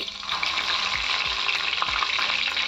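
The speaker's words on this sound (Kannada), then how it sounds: "ಎಣ್ಣೆ ಬೆಚ್ಚಾತನ ನಿಕಲಿಗೆ ಸೌಂಡ್ ಕೇಂದಿಪ್ಪು" Hot oil sizzling and crackling steadily in a pan on the stove while homemade Kesha Vardhini hair oil cooks over a slow flame, loud and close with a continuous hiss and small pops, no voices.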